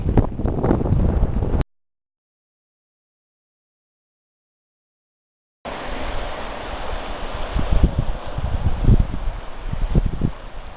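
Strong wind gusting through a dry canyon near the coast, a steady rushing roar with buffeting against the microphone, cutting out completely for a few seconds before returning louder and gustier.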